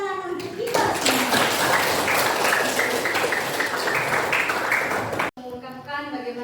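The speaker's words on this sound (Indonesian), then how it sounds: "silakan tepuk tangan untuk kita semua" Students and a teacher applaud together in a classroom at a vocational high school, a dense burst of hand clapping from the group that runs for several seconds, with voices calling out over it and a short pause before someone speaks.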